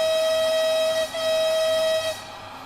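A train whistle sounds in Train Sim World 6 on the Liberec–Stará Paka line, a loud bright tonal blast held about a second, a short break, then a second sustained blast before it cuts off.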